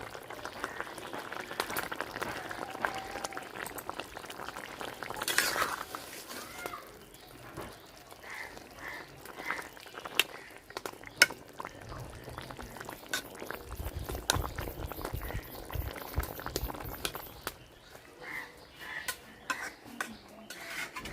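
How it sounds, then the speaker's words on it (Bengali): A pot of Bengali-style katla fish curry with broccoli at a boil, bubbling liquid heard up close along with occasional clinks of utensils and pot, stirring and a brief pour. "এই যে তরকারি আমার বলক হয়ে গেছে"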